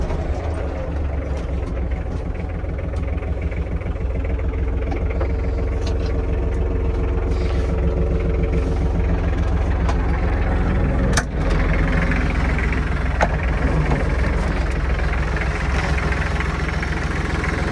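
A Japanese Iseki Geas TG-253 mini tractor engine idles steadily nearby, a loud low chugging rumble that holds constant throughout.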